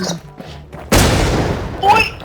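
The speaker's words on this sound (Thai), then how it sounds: "ขั้นแรกนะ เราจะเราจะโยนระเบิดใส่" A thrown grenade goes off in the online shooter game Infestation with a sudden loud blast that decays into a long rumbling roar, while someone talks excitedly before and after.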